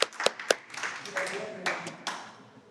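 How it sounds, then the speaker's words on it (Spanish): Scattered claps and taps from a small church gathering during a Spanish-language evangelism session, a few sharp hand hits standing out among murmuring voices rather than a sustained ovation. "Un aplauso."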